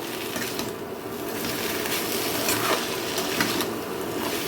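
Watermelon rind is stirred in a pan with fried potato and lentil dumplings, making continuous scraping, sizzling and stirring sounds without a break.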